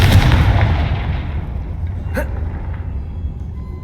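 Confringo blasting spell explosion in the Hogwarts Legacy video game, a loud booming burst at the start that rumbles and fades, followed by a sharp crackling zap partway through over continuous low game noise.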